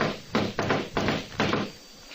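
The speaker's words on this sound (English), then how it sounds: "I rapped on the door marked Adam Flynn" Four crisp knuckle raps land on a wooden door at a steady pace as a radio drama sound effect, close and moderately loud, with no voices over them.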